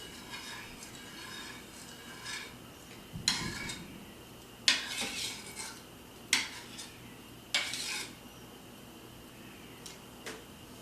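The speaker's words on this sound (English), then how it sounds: "I'm going to stir it in." Leftover homemade yogurt being stirred into a pot of milk, a few sharp spoon clinks and scrapes against the container at irregular intervals over a quiet background.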